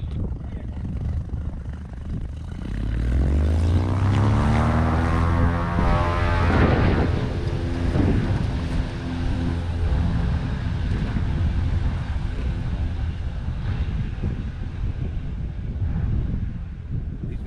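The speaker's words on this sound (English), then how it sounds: "Cessna 58 Tango, taking off on runway 19er, glider in tow" A Cessna tow plane takes off on runway 19 at Zephyrhills with a glider in tow at a soaring club; the propeller engine roars up loud and near, passing with a falling drone, then a steady engine noise and wind buffeting continue.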